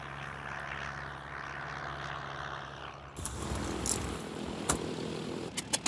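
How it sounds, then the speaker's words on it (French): Old propeller airplane 3202, a rebuilt vintage aircraft, drones low at first, then its engine roar swells abruptly into a louder, rough, broadband rumble as it takes off. "je vais profiter d'un nouveau décollage en 3202"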